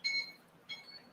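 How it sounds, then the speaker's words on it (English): An alarm sounds in two short electronic beeping bursts separated by a brief gap, fairly faint in a quiet room. "That's our alarm."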